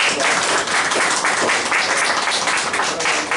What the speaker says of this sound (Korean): 기도하고 박수 한번 드립니다.